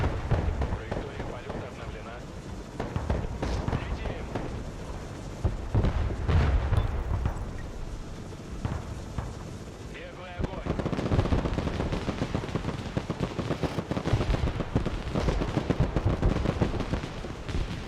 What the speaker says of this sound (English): The 81mm mortars plinking off the Abrams roofs are not actually going to do any damage